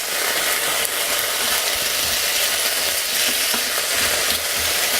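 Steady, dense sizzling of onions frying in a hot pan in a Magimix Cook Expert, a continuous crackling hiss with occasional stirring scrapes, close and fairly loud.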